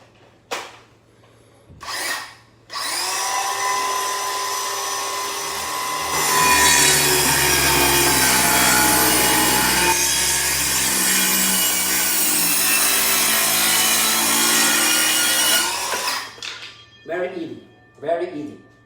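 Cordless circular saw cutting through a wooden board about 40 mm thick: a loud sustained whine for about ten seconds, with short bursts of the motor spinning up and winding down before and after.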